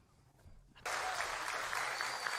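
Talk show studio audience applause that bursts in abruptly after near silence, then holds as a loud, even wall of clapping.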